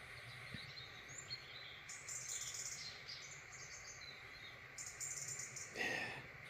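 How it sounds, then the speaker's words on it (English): A small wren chirps among the trees at a nature reserve, giving faint, thin repeated calls and trills from some distance over a quiet outdoor background. "that's a little wren"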